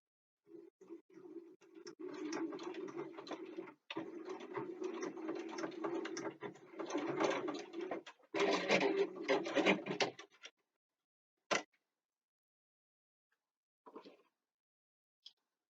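A sewing machine stitching down D-ring straps on a bookbag, running in steady rattling bursts for about ten seconds with a short pause, then stopping, followed by a few brief clicks and handling knocks.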